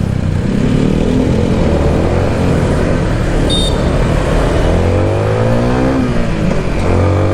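Cars in heavy road traffic rumble and pass close by, a loud continuous engine drone with rising and falling whooshes as vehicles move and accelerate.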